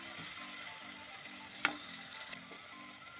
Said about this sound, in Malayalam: ഒരു ചെറിയ തക്കാളി ഇവിടെ ഇങ്ങനെ ഇട്ട് കൊടുക്കാം ഇവിടെ ഒന്ന് വഴറ്റി